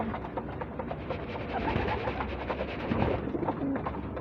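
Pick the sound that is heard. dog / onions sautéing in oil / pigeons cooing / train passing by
pigeons cooing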